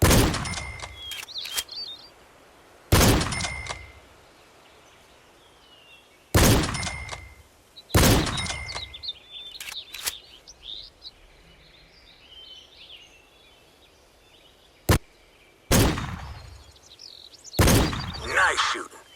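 Rifle shots in the hunting video game Cabela's Big Hunter 2012: about eight sharp, loud single cracks spaced a few seconds apart, each with a short echoing tail over a quiet outdoor ambience with faint birdsong.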